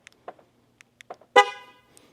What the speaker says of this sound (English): the second one will be a honk